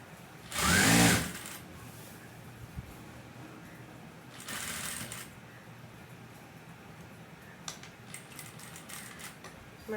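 Sewing machine stitching a pocket onto a nightie, with one loud whirring burst, a second softer run a few seconds later, and light handling clicks in between.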